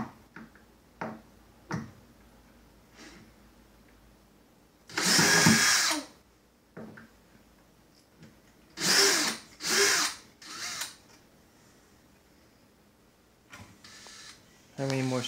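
Cordless drill unscrewing screws, several loud high-pitched whirring bursts of a second or so each, separated by quiet gaps with small clicks and handling noises nearby.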